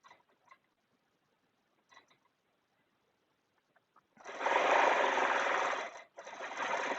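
A sewing machine quilting a border design along a ruler on a quilt starts up after a few faint soft clicks. It then runs as a steady, close, loud whir for about two seconds, pauses briefly and resumes.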